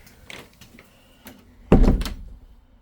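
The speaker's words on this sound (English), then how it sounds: "let's see if we close this door." A water heater closet door closes with a single solid thunk, preceded by a few light shuffling knocks and followed by a brief fading rattle.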